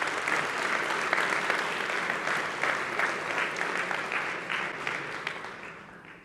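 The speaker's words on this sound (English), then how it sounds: "Please give also them a round of applause." Steady, dense applause from a large audience at a programming contest closing ceremony, honoring volunteers, sustained and fairly loud throughout before tapering slightly at the end.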